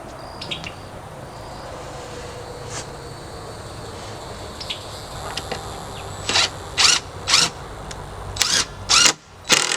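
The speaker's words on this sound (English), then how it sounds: "I take my drill, and you see I had wiggled it on here. Take my drill, reverse" A power drill whirs in reverse backing out a screw, several short bursts near the end, each a quick high-pitched spin, after quieter background noise and faint chirps.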